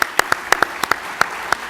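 A handful of sparse, separate claps at a business challenge event, sharp isolated hits spaced irregularly like a few people clapping rather than a full crowd.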